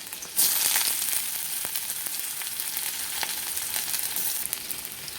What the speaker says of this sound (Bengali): আদা রসুন কাঁচা লঙ্কা নিয়ে নিয়েছি দিয়ে দেবো এবার দিয়ে দেবো পেঁয়াজ কুচি